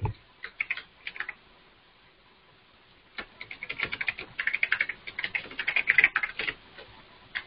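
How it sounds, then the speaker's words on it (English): Close typing on a computer keyboard, a brief burst of key clicks, a short pause, then a longer rapid flurry of taps that tails off into quiet. "I'll just type this stuff out."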